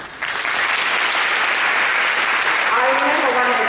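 A crowd at a university undergraduate open house claps for an admissions event organizer, a loud continuous wash of applause that starts suddenly and fills the whole stretch.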